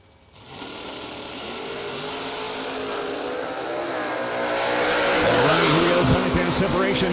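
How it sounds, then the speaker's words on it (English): A Corvette Roadster and a Camaro at a drag racing event roar and rev through a loud, building engine sound, with rising pitch sweeps near the end as they launch, heard over trackside noise and announcer commentary. "The Corvette Roadster, 515 going to be the dial-in, going up against Bryson Scruggs."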